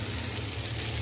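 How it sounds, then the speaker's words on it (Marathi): Okra (bhindi) roasting in a pan gives a steady, soft, even sizzle that runs alone for about a second with no voices. "भेंडी मस्त भाजून घेते मी अगोदर"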